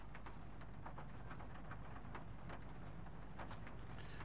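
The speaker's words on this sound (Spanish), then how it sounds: "No ves cómo está lloviendo." Rain falling in the video game Alan Wake 2, a faint, steady patter with scattered sharper drops and a low rumbling background, heard alone without voices.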